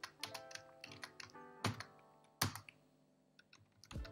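Keys clatter on a computer keyboard as code is typed, in uneven bursts of close, crisp clicks and a few heavier thunks, with no one talking.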